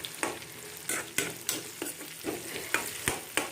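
Onions fry in a pan while a spatula stirs them, with about a dozen sharp scraping strokes landing in an irregular rhythm over a close, continuous sizzle, and no talking.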